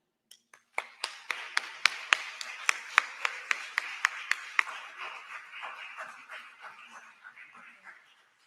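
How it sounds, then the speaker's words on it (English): Sparse applause at a candidates forum as a speaker is introduced: a series of distinct, evenly spaced claps, crisp and fairly close, then a fainter trailing patter fading out after several seconds. "please give a round of applause"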